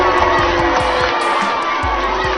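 Large film audience at a screening of Black Christmas (2019) cheering and whooping in a dense, continuous roar of crowd noise, with scattered shouts rising above it throughout.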